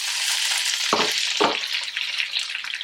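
Green chillies sautéing in a hot pan, a steady close sizzle with two brief stirring scrapes, continuing at an even level.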